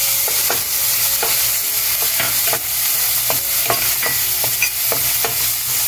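Chopped garlic and onion fry in a pan for a Veg Manchurian, a steady close sizzle broken by repeated sharp scrapes of a spoon stirring at a quick, even rhythm, with no talking.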